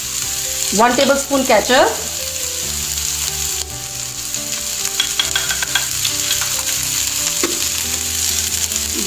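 Capsicum cooks in a pan under a steady frying sizzle with occasional faint clinks, while a person speaks over the first stretch.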